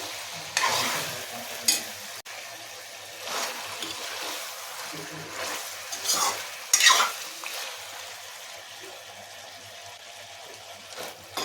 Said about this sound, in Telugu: ఇలా ఈ నూనెలోనే ఫ్రై అయిపోవాలి.